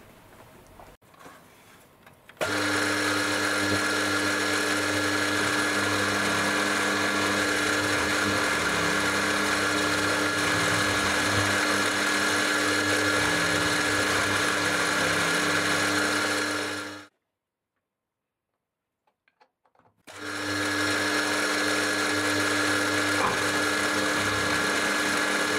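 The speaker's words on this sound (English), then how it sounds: "lock the vise and mill again" Milling machine cutting a drill grinding jig held in a vise, a loud steady whine with a tonal hum running near continuously, then stopping for a few seconds before starting again.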